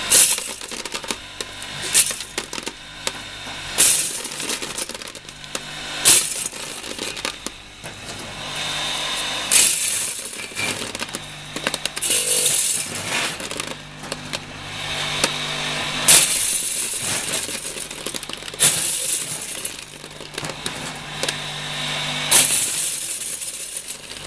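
Hand-operated corn sheller stripping maize kernels, a loud repeated rattling, clattering and ratcheting in bursts with kernels scattering, close and continuous.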